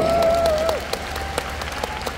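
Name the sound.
audience applause for two guests at a film talk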